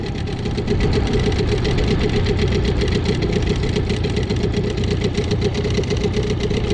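A small outboard boat motor with a frozen water pump runs steadily at idle in freezing weather, a close, continuous knocking rumble with a fast even pulse, with no voices over it.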